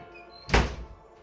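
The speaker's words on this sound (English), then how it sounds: "Will you close the damn door?" A door is pushed shut indoors with a single solid thud midway through a quiet stretch, close by, with no talking.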